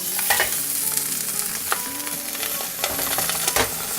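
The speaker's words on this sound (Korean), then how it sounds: "계란 후라이 하나에 먹자 계란 후라이 할 때 물 붓고" An egg frying in a pan, with water added to it, crackles and sizzles steadily, with a few sharp pops and scraping stirs close up and no talking.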